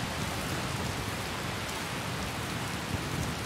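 Steady rain falling in the video game Skyrim, a dense, even hiss of drops that fills the whole stretch with no break, loud and close, with no voices.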